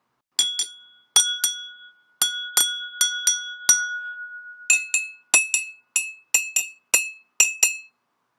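A knife taps glassware holding water in a homemade water-glass xylophone, giving about seventeen bright, ringing clinks in an uneven rhythm, each with a short shimmering decay, close and clear with no talk.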